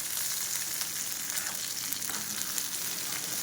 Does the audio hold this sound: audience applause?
no